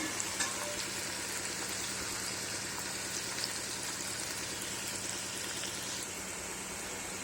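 Bitter gourd pieces for chutney fry in a hot pan while being stirred, giving a dense, steady sizzle with soft scraping that runs unbroken throughout, close up and with no voices.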